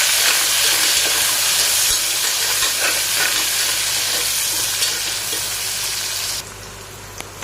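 Chopped onions fry with browned chana dal in a pan for kovakkai kulambu, making a loud, steady sizzle with stirring scrapes that drops in level near the end, with no voice.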